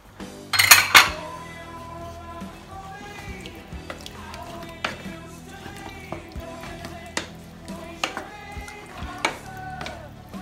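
Chickpeas and their liquid tipped into a cooking pot, a loud splashing pour at the start, followed by scattered metallic clinks of pots and utensils in a kitchen.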